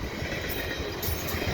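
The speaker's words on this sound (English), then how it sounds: "The CP eastbound grain train" A Canadian Pacific eastbound grain train rolls past close by on a windy day. A loud, continuous rumble carries faint wheel clatter and squeal, and no one speaks.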